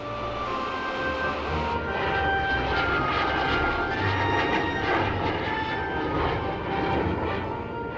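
A de Havilland Comet jet airliner in flight, a steady, loud broadband jet roar that holds evenly throughout with faint tonal whines riding on top, no voices present.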